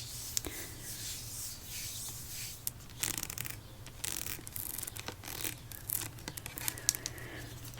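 Fingers rubbing and tapping a soft-touch Bath & Body Works hand soap bottle with a silicone-like coating, a close, continuous scratchy friction with brief sharper taps, heard alone over a steady low hum.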